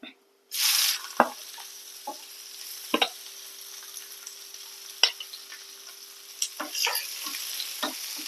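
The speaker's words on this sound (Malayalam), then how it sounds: "സവാള ചേർത്ത് ഒന്ന് വഴറ്റി" Sliced onions hit a hot pan with a sudden sizzle in a Kerala egg thoran preparation, followed by quieter frying and a series of sharp spoon scrapes and clicks as they are stirred, close up.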